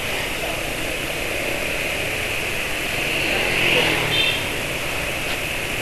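A motorcycle engine idles smoothly and steadily, a close continuous hum with a slight swell in the middle.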